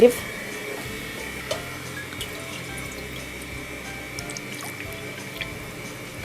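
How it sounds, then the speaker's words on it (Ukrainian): Water poured onto agar-agar for a sugar syrup, a running splash and drips from a tap close by, steady and continuous with a brief knock at the start. "Заливаємо його водою."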